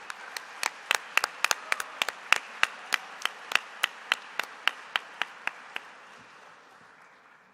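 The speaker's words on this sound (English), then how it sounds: "Please join me in a round of applause for Indy's best and brightest manufacturing, retail, and services honorees." Audience applause at the 2017 Best and Brightest awards presentation for manufacturing, retail and services honorees: one nearby pair of hands claps sharply at a steady, even pace over a softer wash of crowd clapping, which tapers off after about six seconds.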